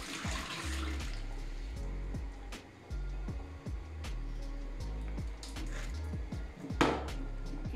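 Rinsed rice being strained, with water pouring and draining through a colander in bursts and a few clinks of a pot, close and fairly steady, with no talking.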